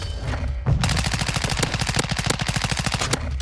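Rapid automatic gunfire in Modern Warfare 2 bursts out as a sustained, evenly spaced stream of loud close shots for about two and a half seconds, then stops abruptly, with no talk over it.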